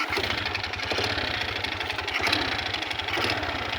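A small motorcycle engine with a gearbox idles and runs nearby with a steady low mechanical chugging throughout, loud and continuous with no talking.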